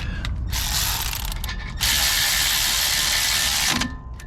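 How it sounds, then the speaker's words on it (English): A ratchet tightening the front brake caliper bolts on a 2021 Nissan Rogue, giving rapid buzzing clicks in two close bursts, the second longer and louder, with a brief pause between. "So you put your 14s back in, give it a couple ooga-doogas, you know. Get your ratchet ready."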